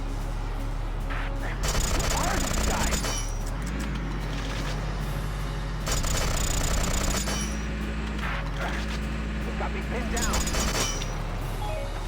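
In the video game Valkyria Chronicles Remastered, a tank's engine drones and rises and falls while it attacks enemy tanks, with loud bursts of fire breaking through and a voice talking over the action.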